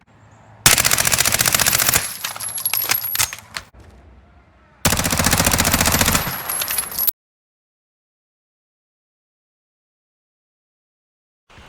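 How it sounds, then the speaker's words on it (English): ISO submachine gun in a video game firing during recoil tests: two long full-auto bursts, each lasting one to two seconds, loud and close, separated by a short gap and followed by silence. "Let's now look at recoil tests for the ISO."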